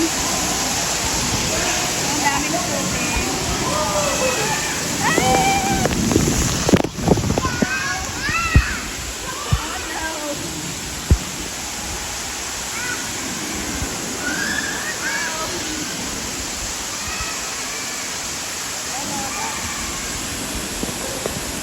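Steady, loud rushing of water pouring down inside a cave ride at Calypso water park in Canada, with excited voices and a few sharp splashes mixed in.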